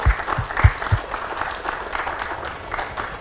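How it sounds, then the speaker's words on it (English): An audience at a Fourth of July broadcast panel applauds the panelists, with a few loud close claps at first that settle into steady, moderately loud clapping throughout. "give them a round of applause"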